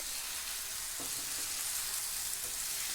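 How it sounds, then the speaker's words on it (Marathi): Marinated tandoori chicken pieces roast in a pan over a high gas flame, making a loud, even, continuous sizzle with a few faint knocks, and no voices. "आता फास्ट गॅसवरती आपण दोन तीन मिनटासाठी हे भाजून घेणार आहोत"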